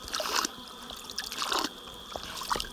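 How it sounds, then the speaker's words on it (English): Water trickles and splashes softly as a pineapple pup is dipped and swirled in water before planting, a few gentle sloshing bursts close up with no speech. "before planting, I just put it in water like this to make sure it cleans it up"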